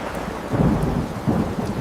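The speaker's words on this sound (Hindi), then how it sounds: "इंदौर की बारिश सच बेमिसाल है।" Steady heavy rain with deep rumbling thunder in an AI-generated scene of a monsoon downpour in Indore, a dense, loud wash of falling water with low rolling swells and no voices.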